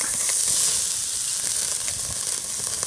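A thin steak sears on a hot BBQ grill, giving a loud, steady, close hiss and crackle of fat that runs continuously with no voices over it.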